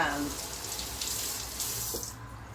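Tap water runs steadily into a kitchen sink as food is rinsed before chopping, a continuous close hiss of flowing water with no talk over it.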